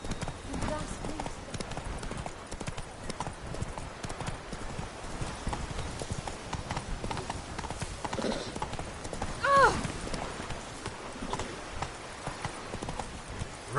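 Roach, a horse in the video game The Witcher 3, gallops with steady, rapid clip-clop hoofbeats; a short whinny is heard near the middle, with talk and game ambience alongside.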